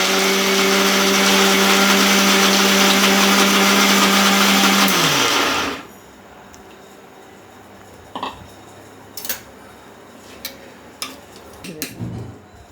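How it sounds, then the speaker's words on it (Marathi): A loud mixer grinder whirs steadily for about five seconds grinding moong and urad dal, then stops abruptly, followed by a few faint clicks and knocks. "ते मिक्सरला वाटून घेऊया"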